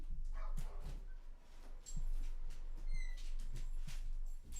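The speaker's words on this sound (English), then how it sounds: "Is that a doggy?" A small dog's yips and short whimpering barks come from nearby, scattered through the clip over a constant low hum, with no voices.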